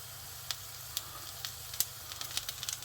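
Sausages frying in a pan on an indoor kitchen stove used in place of a camping stove, giving a soft steady sizzle with scattered small pops and crackles, fairly quiet throughout.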